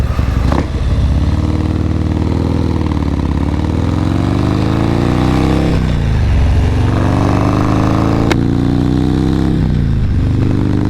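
Motorcycle with fully gutted Shark Road exhausts, very loud and close, its engine revving up and down in rising and falling sweeps over a constant rumbling roar.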